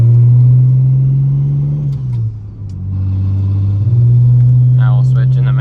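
BMW 335i with a big single turbo, anti-lag and a manual gearbox pulling hard at 26 psi, a loud steady engine drone from inside the car that dips briefly at a gear change, then climbs again with crackles near the end.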